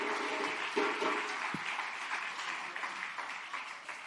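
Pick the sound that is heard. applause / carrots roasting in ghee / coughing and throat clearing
applause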